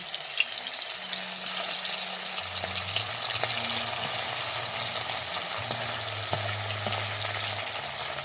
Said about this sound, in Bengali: বাদ বাকি মাছগুলোকে ভেজে নেব